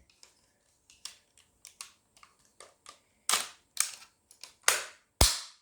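A toy cap gun rifle from Smyths Toys fires roughly a dozen sharp, close pops at an uneven pace, the later shots louder and snappier.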